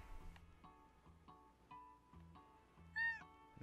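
A cat meows in a video game when it gets petted: soft, faint mews repeated several times in an even rhythm, ending with one brighter, higher meow.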